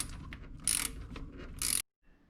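A 7mm socket ratchet loosens an intake tube clamp on a 2003-07 Ram 2500 Cummins inline six, with close, rapid clicking in a few short runs and two louder bursts before it stops.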